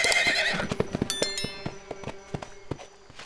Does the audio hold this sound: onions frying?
no